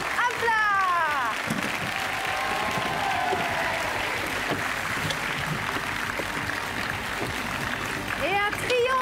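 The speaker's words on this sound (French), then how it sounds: "Et un triomphe d'applaudissements pour mon partenaire!" A stage magic show audience gives a sustained, even round of applause for the magician's partner, steady clapping throughout with a voice calling out briefly at the start and end.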